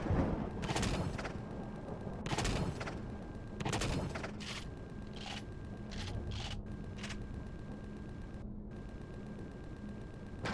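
A minigun turret fires in the space game Empyrion, with rapid bursts of gunfire crackling in irregular volleys over a constant rumbling hum, then thinning to scattered shots.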